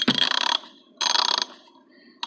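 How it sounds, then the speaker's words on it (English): Half-inch 90-tooth ratchet clicking in three quick bursts separated by short pauses, each a fine, rapid run of close, crisp clicks with no talk. "I really like the 1/2-inch because these are all 90-tooth ratchets"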